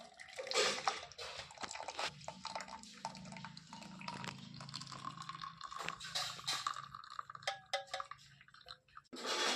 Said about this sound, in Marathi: काढा आता गाळून घेऊया